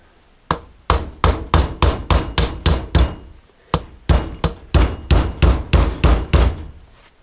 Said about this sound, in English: I'm going to get a punch and punch that through.